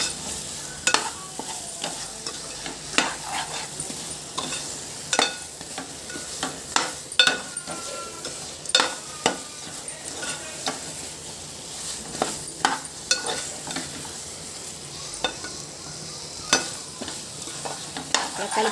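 Drumstick tomato curry frying in a pan, a soft steady sizzle broken by frequent clinks and scrapes of a spoon stirring through it, close and moderately loud.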